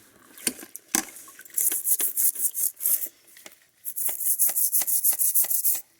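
A fire-damaged AR-15 part is scrubbed with a brush at a parts washer, first a few sharp knocks, then quick rhythmic rasping strokes, loud and close, with a brief pause midway.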